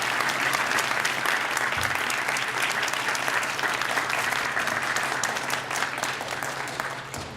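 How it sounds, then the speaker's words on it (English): An audience at an annual donor-scholar breakfast applauds the speakers, a full, steady round of clapping from many hands that tapers slightly at the end. "How about another round of applause for our speakers for sharing their inspiring stories?"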